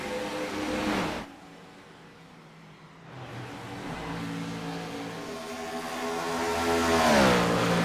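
An IROC race car engine at Chicago screams at wide-open throttle up to 9,100 RPM, heard from on board. A loud howl drops away abruptly, stays quiet, then builds back to a rising rev near the end.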